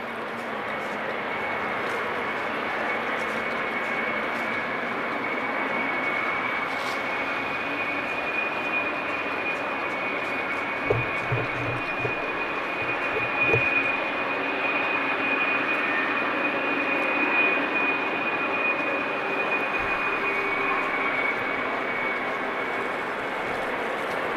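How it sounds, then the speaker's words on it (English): A KLM Boeing 777 taxis at Amsterdam Schiphol Airport toward runway 24, its jet engines giving a steady, loud roar with a constant high whine, heard from nearby outdoors. "So this KLM 777 is going to runway 24. So we will have it in the taxi"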